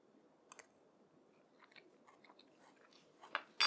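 Chewing a salmon and quinoa Greek salad at a taste test, quiet close-up bites and soft crunching in a near-silent room, with a louder clatter at the very end.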